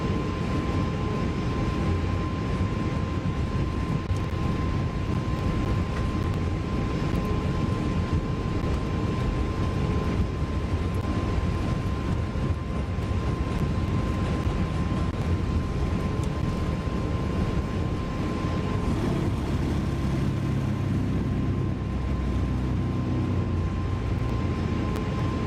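Airliner engines in Microsoft Flight Simulator 2024 hold takeoff power, a steady loud broadband roar with a faint constant whine on top, unbroken for the whole stretch.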